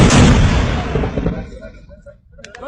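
Pakistan Army firing drill: one loud, close gunshot boom that decays over a second or so, followed by quieter rumbling and a faint voice near the end.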